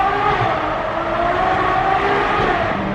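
A Ferrari 812 Superfast's engine booms steadily through a tunnel on the road to Malibu, a loud, sustained drone held close throughout with no talk over it.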